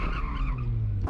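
A stock Mazda RX-8 drifting, its tires squealing in a loud continuous skid with a sustained tonal screech over engine noise, close by.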